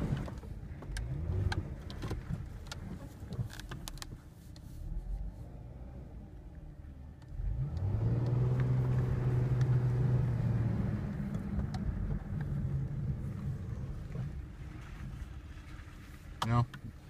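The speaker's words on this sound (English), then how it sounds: "There, just kicked into gear and the rear tires just slipped." A Dodge Charger's engine with a gear fault runs as a low rumbling drone that swells into a louder, steadier roar partway through and then settles.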